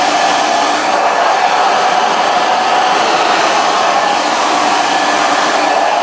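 A hair dryer blows steadily on a spaniel's coat during an in-curl blow-dry for a grooming certification; the loud, continuous, even airflow runs close and unbroken with no talking.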